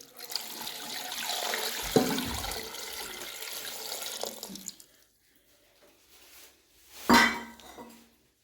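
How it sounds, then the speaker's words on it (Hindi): Water is poured into a pressure cooker while making mutton pulao, a steady splashing pour heard close for several seconds, then a quieter pause and a sharp metallic clink of the pot. "इसके अंदर पानी डालने लगी हूँ।"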